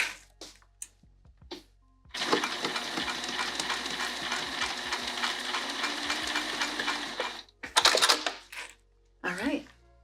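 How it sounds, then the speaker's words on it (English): A sewing machine stitches a pattern seam in slick, slippery fabric, a steady mechanical whirr lasting about five seconds, with brief handling knocks and rustles before and after. "There we go, and I'm gonna sew this."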